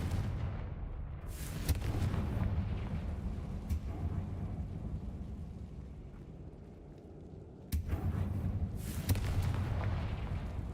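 Confringo blasting spell explosion in the video game Hogwarts Legacy, heard as booming, rumbling blasts with a sharp burst near the start and another strong blast toward the end, over a continuous low roar.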